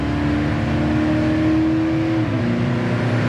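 A 1969 Pontiac Firebird 400 restomod with a shift kit accelerating hard, its engine roaring loud and steady up close before a quick gear change drops the pitch and the pull resumes, with no voices.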